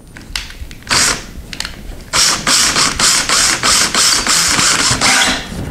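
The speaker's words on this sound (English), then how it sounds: "We're just going to start a small little pilot hole." A power drill starts a small pilot hole in a drywall patch, running in short rapid bursts with a rattling, ratchet-like chatter that repeats in a steady stop-start rhythm, close and fairly loud.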